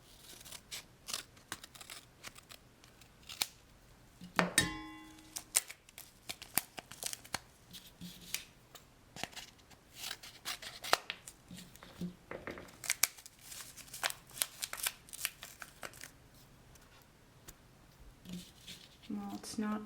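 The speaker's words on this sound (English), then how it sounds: "So we're gonna just cut off the tip." Scissors snip the tip off a foil yogurt culture packet beside a Greek yogurt maker, a scatter of small crinkles and clicks with one sharper crunchy cut, quiet and close.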